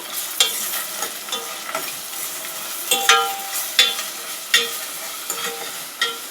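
Ginger garlic paste sizzles in a hot pan, a steady close frying hiss broken by several sharp scraping stirs of a utensil against the pan.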